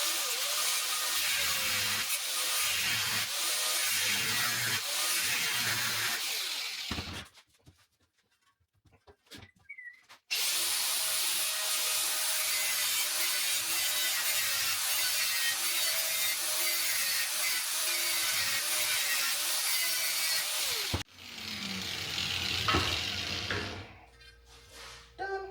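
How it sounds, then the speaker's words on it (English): Welding-cart metal pieces being cut in half with a power saw: a loud, continuous grinding screech with a wavering pitch, stopping for a few seconds, resuming, then a final shorter burst. "all we gotta do now is separate these little pieces here and then cut it in half"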